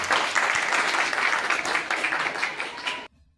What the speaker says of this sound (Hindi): लीजिए जरा जोरदार तालियों के साथ